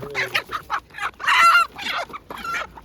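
Several hens cluck and squawk close by in bursts at a market, one louder cackle in the middle, with no talking.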